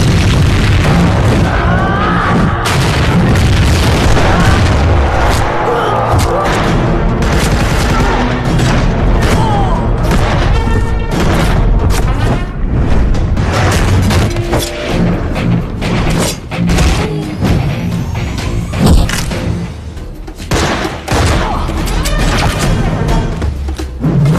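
Explosion wrecking a weapons warehouse in an action film, dense booming blasts and gunfire-like bursts rolling continuously and loudly with music-like texture throughout.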